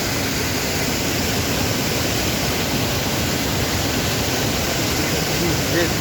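Mountain water in Tajikistan rushing steadily, a dense, unbroken roar of flow close by, loud and constant with no pauses.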